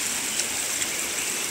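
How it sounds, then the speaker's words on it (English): A river flows steadily near a conservation centre, giving a continuous broad rush of water with no pauses and no voices. "This is a river."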